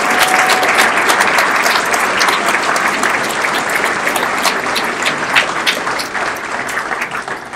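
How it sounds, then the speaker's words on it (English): Steady, loud applause from an audience at a scholar-athlete recognition awards ceremony, a dense wash of clapping sustained throughout with no talk over it. "let's give a big round of applause for Team Maine"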